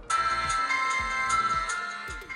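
A compact dual-SIM feature phone plays its startup tune on power-up: a bright, tonal melody with steady sustained notes and a few rhythmic low pulses, loud and close, with no talking.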